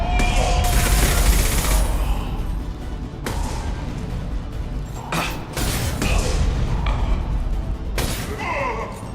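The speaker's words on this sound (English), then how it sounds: "Concussive shot ready." Heavy gunfire fills a Mass Effect battle: sharp concussive blasts and rapid bursts of shots crack repeatedly over a constant rumble, loud and close, with short gaps between volleys.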